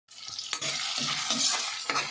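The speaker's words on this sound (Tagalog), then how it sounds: "Una nating igigisa with kamatis." Tomato, onion and garlic sizzle steadily in a pan as they are sautéed, with a spatula scraping and stirring through the hiss in a few close, distinct strokes.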